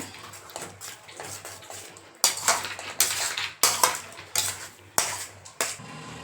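A spoon clanks and scrapes against a pan in bold, regular strokes as tomato pickle is stirred together with vinegar, close and distinct with no talking.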